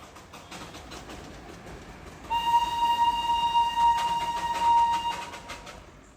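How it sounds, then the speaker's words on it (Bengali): The Darjeeling toy train passes close by with a sustained whistle-like horn tone and a rattle of cars, rising loud over road ambience. "আর দেখো এখানে তখন সবে টয় ট্রেন ক্রস করলো"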